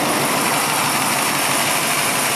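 A cold 1956 Ford Victoria engine idles steadily a few minutes after starting, a close, even, continuous mechanical rumble with broadband hiss and no talking.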